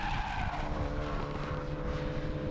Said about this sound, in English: Whistling tyres as they continue on, still chirping away.